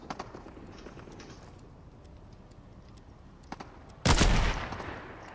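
Sniper gunfire in the video game Fortnite: faint scattered clicks and distant pops lead to one loud, sharp shot with a brief ringing tail near the end.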